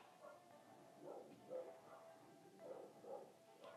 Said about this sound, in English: Is there a dog? Is it going to be my pet?